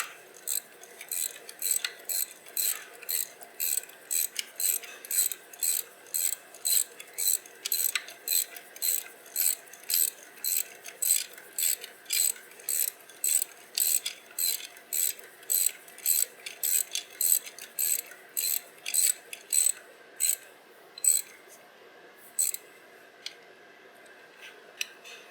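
A ratchet wrench snugs up bolts on the hydraulic pump of a John Deere 4230 tractor, giving a long, steady run of rapid, crisp clicks in quick strokes, close and clear with no talk.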